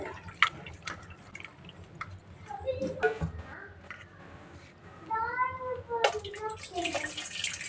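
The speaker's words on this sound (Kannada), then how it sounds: "ಹುಣಸೆ ಹಣ್ಣನ್ನು ಒಂದ್ಸಲ ವಾಶ್ ಮಾಡಿಕೊಂಡು ಇದನ್ನು ನೆನೆಯೋಕ್ಕೆ ಬಿಡೋಣ" Tamarind is washed by hand in water in a home kitchen, with soft sloshing, splashing and dripping sounds under a person talking.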